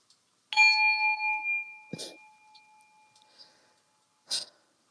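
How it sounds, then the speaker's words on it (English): A meditation chime is struck once, ringing out clear and sustained for a couple of seconds and fading slowly, close by, with soft breaths or movements after it and no talking. "on the sound of the chime, let's get it."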